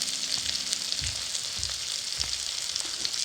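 Turmeric and ground spices sizzle in hot oil for Khandeshi cooking, a steady high hiss with a few soft low knocks of stirring, close and even throughout.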